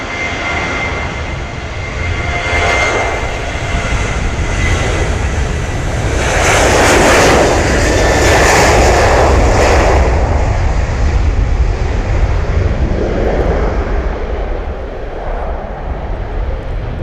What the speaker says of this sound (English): You might just catch a glimpse of it taxiing out there.